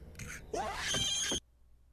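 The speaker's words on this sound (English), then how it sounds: "Damn, you hear that screech?" A shrill, rising monster screech from the movie Gaia, lasting under a second, harsh and piercing, followed by silence.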